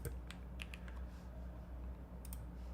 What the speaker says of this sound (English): Switching to my old keyboard has increased my typing power.